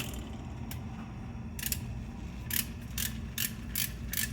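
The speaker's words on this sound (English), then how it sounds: "Let's work on these other bolts real quick." A ratchet works loose bolts on an engine being disassembled, giving several short bursts of rapid metallic clicking, close and fairly loud, over a steady low background hum.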